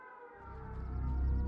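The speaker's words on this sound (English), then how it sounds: "And there's the sirens, ladies and gentlemen." Sirens sound during a video game match, a low droning wail swelling gradually in loudness over a steady tonal hum, with no speech over it.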